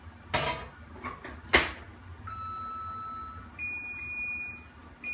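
Microwave oven in a home kitchen being used, with a couple of clattering knocks as the door shuts, then steady electronic beeps and a tonal hum as it starts running, close and fairly quiet.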